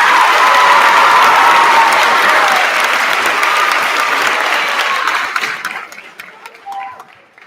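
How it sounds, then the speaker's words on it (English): A large audience applauds and cheers at an 8th grade promotion ceremony, a dense sustained wash of clapping that thins out and fades away toward the end. "So please, a round of applause for Rachel T."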